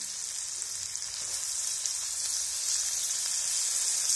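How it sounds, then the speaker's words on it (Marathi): Finely chopped ginger, garlic and onion fry in oil for a momo filling, giving a strong, steady hiss that holds up close throughout without pause. "So put some oil. Put finely chopped ginger garlic in it."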